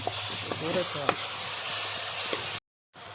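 Onions frying in oil for a desi chicken curry, a steady sizzle with scraping stirs and light taps of a spoon, a voice talking faintly over it before a brief cut to silence.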